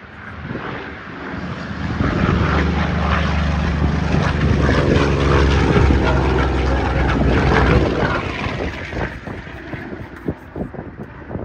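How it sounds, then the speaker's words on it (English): Supermarine Spitfire Mk V propeller fighters at an airshow at East Leeds Airport, a loud droning engine roar that swells as the aircraft pass close, with wind buffeting the microphone. "coming in from the left, it's Spitfires"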